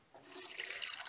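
A watering can being refilled with water in the farming game Sun Haven: a short, soft gurgling pour that starts abruptly and runs for about a second, alone and fairly faint.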